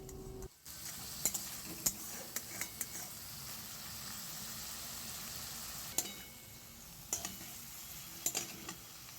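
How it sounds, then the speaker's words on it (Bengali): Spice paste of cumin powder cooked down in hot oil for a parshe fish kasundi: a steady close sizzle runs throughout, punctuated by sharp scrapes and clicks of a spatula stirring against the pan. "এবার মশলাটা কষানো হবে মশলা থেকে তেল বেরিয়ে যাওয়া পর্যন্ত আমাদের অপেক্ষা করতে হবে"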